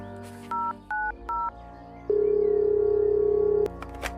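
Telephone keypad tones in an animated cartoon: three short, evenly spaced beeps, then one long sustained tone, clear and close with no voices.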